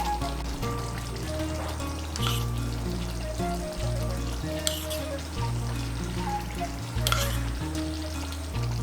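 Fresh cream being stirred into butter chicken masala in a hot pan: a steady close sizzle with repeated soft scraping strokes of the spoon, continuous throughout.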